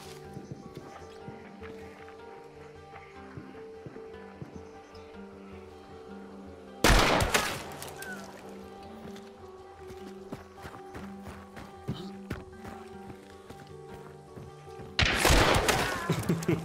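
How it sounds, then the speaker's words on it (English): Two loud, sharp gunshots in a hardcore first-person shooter game, about eight seconds apart, each standing out over a steady bed of clattering game ambience. "two bullets, two headshots, two little bodies"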